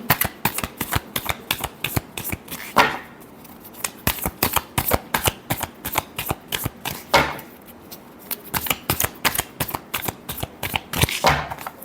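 Tarot cards being shuffled by hand in quick riffling bursts, crisp repeated slaps and flutters close up, with a few short pauses between rounds and no talking.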